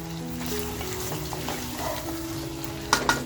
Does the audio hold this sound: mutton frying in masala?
yes